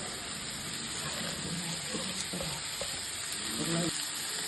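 Spring onion sizzles and is stirred in a hot pan for Schezwan fried rice, a steady close frying hiss with scraping stir strokes throughout, no talk.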